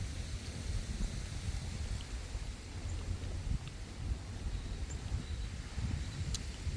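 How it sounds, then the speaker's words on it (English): Steady rain pours outdoors in a fig-growing garden, a dense continuous patter with no voices, loud and close throughout. "In all this rain,"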